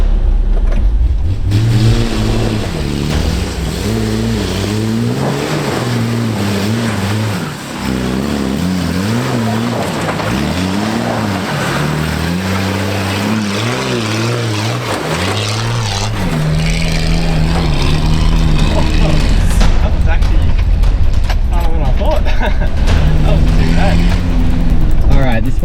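A 4x4 off-road vehicle, a Pajero or Patrol, heading up a steep climb in four-wheel drive low range, its engine droning and revving up and down steadily and loudly throughout, with a voice talking over it.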